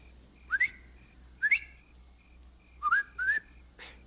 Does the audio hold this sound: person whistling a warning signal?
yes